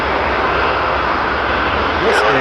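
A WestJet Boeing 737-800 sits lined up at Toronto Pearson Airport, its jet engines making a steady, broad roar that continues throughout the clip.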